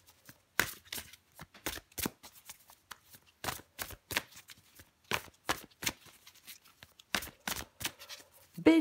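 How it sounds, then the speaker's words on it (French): Tarot cards are shuffled and drawn by hand, with a quiet, close series of crisp slapping and riffling bursts in an irregular rhythm separated by short silences. "je prends encore une carte pour vous les béliers"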